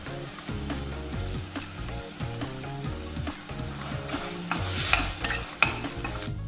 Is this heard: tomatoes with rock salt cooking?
yes